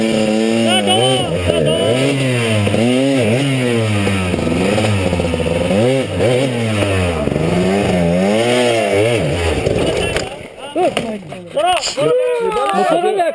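A motorcycle engine revs repeatedly up close, loud rhythmic rising and falling bursts over about ten seconds before it cuts off, with people talking and shouting throughout and afterward.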